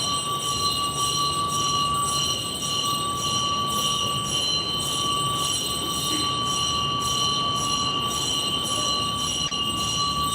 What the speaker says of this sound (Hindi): जो घंटी बज रही है उसके काउंट को सुने और 10 तक रुके।